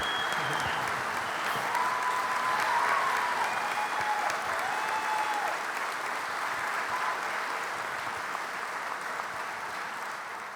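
Sustained applause from a large university commencement audience, dense and even, slowly tapering toward the end.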